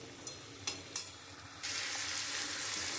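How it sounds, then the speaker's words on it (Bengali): Spices for rajma curry fry in a pan, with a few spoon taps followed by a steady loud sizzle once the mixture is stirred. "আমি এবার এটা খুব ভালো করে কষাবো।"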